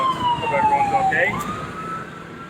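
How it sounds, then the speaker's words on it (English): Ambulance siren passing by outdoors as a storm approaches, a loud wailing tone that sweeps up and down and slides lower as the vehicle moves away. "There goes the ambulance."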